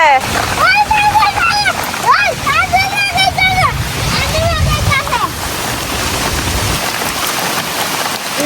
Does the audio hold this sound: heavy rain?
yes